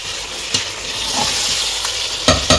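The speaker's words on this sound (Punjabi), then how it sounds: "ਇੱਧਰ ਮੈਂ ਬੰਨਣ ਡਿਆ ਕਲੇਜੀਆਂ।" Chicken livers frying in a pan, a loud continuous sizzle close by, broken by several sharp scrapes and knocks of a spatula stirring them, with no voices.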